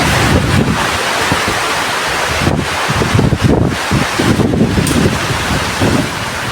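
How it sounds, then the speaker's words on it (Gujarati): Heavy monsoon rain driven by strong wind roars loud and close, with gusts buffeting the microphone in a continuous, rough wash and no talking. "અને વરસાદ ફૂલ થઈ ગયો છે."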